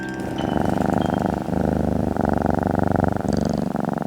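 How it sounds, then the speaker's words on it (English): A steady, rumbling purr pulses in an even rhythm, close and continuous, like a contented cat purring. "So I have different ways of creating purr kind of sounds"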